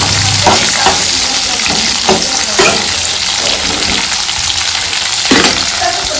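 Onions frying in oil for tempering in a home kitchen during a village-style lima bean chicken recipe, a steady close sizzle with occasional stirring scrapes throughout, no voices.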